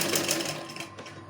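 Sewing machine running steadily while stitching cord piping onto fabric, a continuous close, fairly loud mechanical whir with no voices over it.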